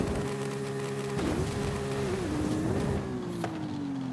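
A car engine in Forza Horizon 5 revs hard during a race lap, its strong harmonic drone holding steady, dipping and rising with gear shifts and throttle changes, loud and continuous throughout.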